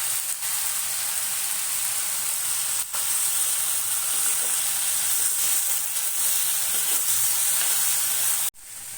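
Ginger and paste frying in a hot pan, a loud, steady sizzle heard close and alone, with an abrupt brief dip near the end.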